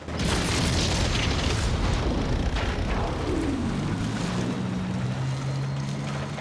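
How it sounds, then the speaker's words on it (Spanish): A loud, roaring explosion from the film Saving Private Ryan, with a deep rumbling boom that lingers and slowly settles. "Y lo hacen literalmente con una explosión"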